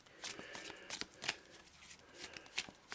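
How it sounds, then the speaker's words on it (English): Playing cards riffled and shuffled by hand during a tabletop game, a run of crisp bursts and ruffles in quick succession, close and fairly loud, with no voices. "I'm rubbish at shuffling"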